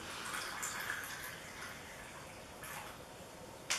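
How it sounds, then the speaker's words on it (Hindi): Water is poured into a neti pot, a faint, steady trickling stream that runs throughout and ends with a small clink near the end. "और उसके बाद हम अपने नीति पॉट में पानी भरेंगे"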